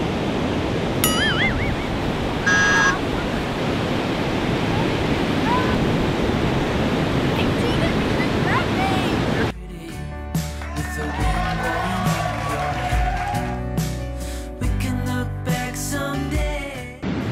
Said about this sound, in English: Some big waves out there.